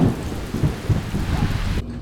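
A thunderstorm rolls in over a treetop, with a deep low rumble of thunder beneath a steady wash of falling rain, brief and fairly close.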